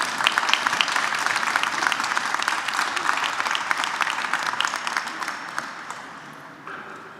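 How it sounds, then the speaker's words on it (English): A sustained round of applause from an audience at an Independence celebration event, dense and even crowd clapping that holds strong before gradually tapering off toward the end. "Please, round of applause for our consuls."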